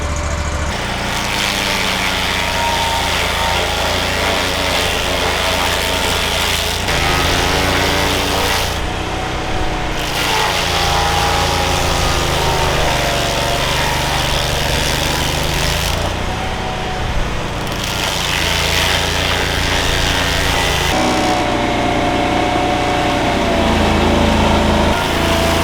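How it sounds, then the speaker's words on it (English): A small chainsaw engine idles steadily to cool down during hazard tree work in Seattle, a loud, continuous buzzing drone close by with slight pitch wavers and no speech. "You always would let it idle, because what it's doing is it's cooling."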